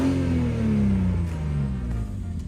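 Exhaust note of a 2004 BMW 330i E46 ZHP engine, a loud close rev that winds down smoothly in pitch as the revs fall, heard alone.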